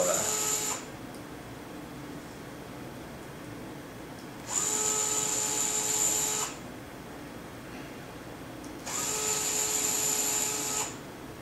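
An electric screwdriver whines in three separate bursts of about two seconds each, pulling servo screws out of an Align T-Rex 550L helicopter frame, with quiet gaps of low room hum between runs.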